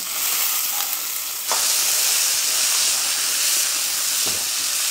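Cumin seeds and soaked chana dal fry loudly in hot oil in a pan, a continuous close sizzle that jumps in intensity partway through, with a few stirring scrapes.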